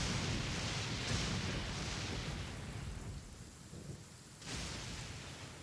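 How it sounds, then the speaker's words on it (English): Thunderstorm with steady heavy rain in Genshin Impact during the Lantern Rite festival, a continuous broadband downpour with low rumbling thunder rolls, easing briefly before surging back, loud and close with no talking. "Oh, and of course it's lightning too."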